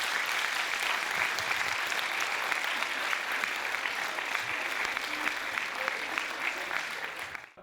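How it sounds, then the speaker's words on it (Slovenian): An audience claps loudly and steadily after children's fairy tale performances, sustained applause from a full room that fades out at the end. "si zaslužijo en velik, ampak res velik aplavz"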